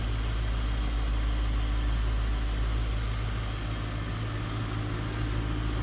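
The V8 engine of a 2004 Ford Thunderbird idles steadily with a deep, even rumble and no revving, close by and continuous throughout.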